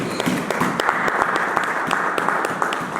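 A church congregation applauds during a sermon with a full, even round of clapping, some sharper individual claps standing out near the front of the sound.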